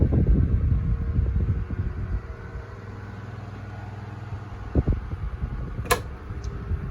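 A Vortice Nordik 30 oscillating desk fan whirs steadily and close, then the hum cuts off, followed by a couple of sharp clicks and knocks in the quiet.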